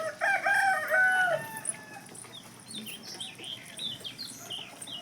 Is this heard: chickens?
yes